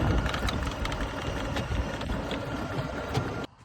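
An EZGO TXT golf cart fitted with a lithium battery drives at full throttle, giving a steady, fairly quiet electric whir and road noise that cuts off abruptly near the end.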